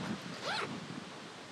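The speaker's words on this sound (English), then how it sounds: "handles on the zippers to make that easy to grab those and unzip and zip it back up" A zipper on a Pyke Wingman Upland Strap Vest gives one quick, close rasping pull, heard alone against a faint breezy background.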